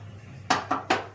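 A pot of sugar and water is set on a stove for gulab jamun syrup, giving three quick, close metallic clanks in a steady rhythm against a quiet background; no talking.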